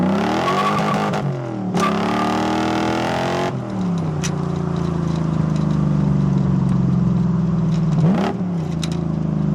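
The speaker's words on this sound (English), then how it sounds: "I think this is my favorite sounding exhaust I've ever built." A big V8 engine in a 1UZ-swapped Toyota farm truck rumbles close by through a deep exhaust, with several sharp throttle blips and revs over a steady, throaty idle.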